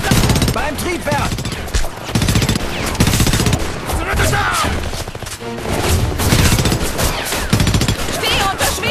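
Heavy gunfire from the video game Homefront, dense machine-gun fusillades and bursts rattling almost nonstop, loud and close, mixed with crashes and shouted voices.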